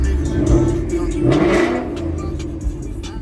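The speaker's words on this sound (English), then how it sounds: "I'm gonna give it a little gas." A 2019 Ford Mustang GT PP1 engine blipped with a little throttle, rising into a couple of throaty revs before settling back to a rumbling idle, loud and close with no talking.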